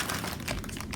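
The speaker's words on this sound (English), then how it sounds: "So I'm just gonna use this plastic bag because that's what I have laying around right now." A plastic bag crinkles and rustles up close, with quiet, rapid crackling bursts that continue steadily for a moment.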